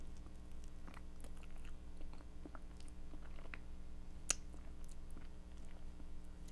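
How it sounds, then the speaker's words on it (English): Someone chews crunchy peanut butter ice cream with chips and grape jelly swirls close to the microphone: quiet, wet bites with one sharp crunch. "Okay, so we've got some crunch in here."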